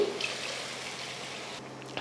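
Water poured into a dried fish curry being cooked with tamarind gives a short, steady rushing splash up close, which stops abruptly near the end.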